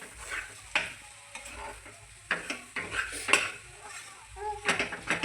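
Potato vegetable filling for aloo toast being sautéed in a pan: a spatula scrapes and clinks against the metal in irregular strokes over a soft sizzle, close and fairly quiet, with no talking.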